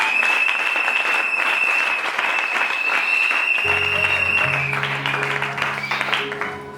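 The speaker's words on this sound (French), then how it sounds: "Acclamons encore puissamment notre Dieu." A church congregation bursts into sustained applause and cheering to acclaim God, a dense, loud wash of clapping that continues as a keyboard chord enters midway.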